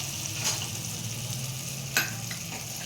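Butter heating in a hot pan before corn kernels go in for homemade popcorn, giving a soft steady sizzle with a couple of small clinks, close and fairly quiet, no voices.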